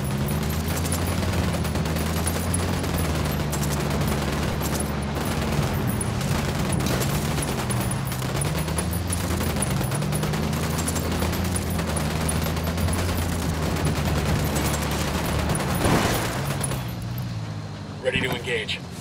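Rapid automatic gunfire in the PS4 shooter Ghost Recon Wildlands, a dense continuous fusillade running throughout over a low engine-like drone, with voices calling out over it and a heavy boom near the end.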